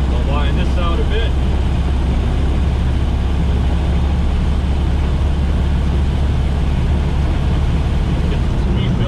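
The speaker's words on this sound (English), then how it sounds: "Okay, so there's third gear regular, not overdriven. I'll wind this out a bit." A Ford Model A with a Burtz block flathead V8 and Mitchell overdrive pulls hard in regular third gear, its engine drone steady and loud from inside the car as it winds out, with a voice talking briefly near the start.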